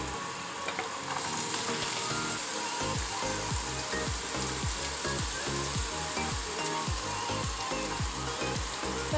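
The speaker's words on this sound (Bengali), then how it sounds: "ফোড়নটা একটু হালকা স্মেল বেরোলে আমি এর মধ্যে একে একে সবজিগুলোকে দিয়ে দেবো। প্রথমে আমি দিয়ে দেবো গাজর কুচি" Chopped carrot and other vegetables sizzle steadily in hot oil tempering, a loud continuous frying hiss with a repeated scraping rhythm of stirring that starts about a second in.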